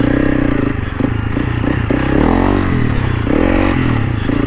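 Engine of a Honda CRF300 Rally motorcycle revving hard with the clutch loaded, a loud, continuous droning roar that rises and falls in pitch through a couple of throttle swells, close to the rider.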